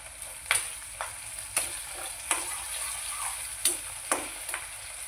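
Ginger-garlic paste stirred into frying onions for paneer chilli, a low steady sizzle broken by several distinct scraping taps of a spoon against the pan at irregular intervals, close and moderately quiet, with no talking.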